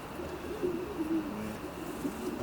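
Pigeons in a racing pigeon loft, soft low cooing carrying steadily over a continuous background hum, moderately close, with no voices.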